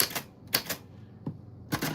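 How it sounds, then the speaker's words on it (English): Manual typewriter keys strike in separate sharp clacks, a few spaced hits with short bursts at the start and end, close and clear, no voices. "I will put it in the typewriter."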